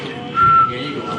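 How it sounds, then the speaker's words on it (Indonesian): A person trying to whistle produces a brief, thin, faint whistled tone amid breathy air and soft background noise. "Coba siul bang."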